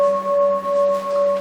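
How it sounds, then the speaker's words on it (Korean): A struck bell rings out in a meditation centre with a steady sustained tone, a bright clear partial over a lower hum, gently pulsing as it lingers alone without any talk. "이 종소리를 가지고 한번 확인해 보죠."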